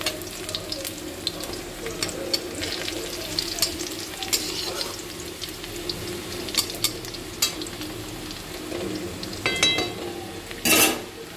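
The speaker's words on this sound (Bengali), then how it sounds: "পেঁয়াজটাকে লাল করে ভেজে নেব।" Onions sizzle steadily in a hot pan as they fry to a reddish brown, with frequent scrapes and clinks of a spatula stirring them and a few louder metallic knocks near the end.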